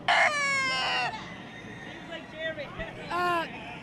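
A rooster crows repeatedly at a crowing competition, one long clear crow followed by shorter, fainter crows amid crowd babble and background chatter.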